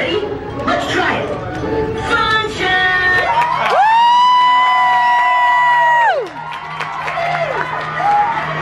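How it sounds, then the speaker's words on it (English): Children at a Chuck E. Cheese birthday party shout and cheer loudly, one long sustained whoop rising above the crowd before the noise drops back to a lively din. "everybody will all cheer and clap our hands as loud as we can"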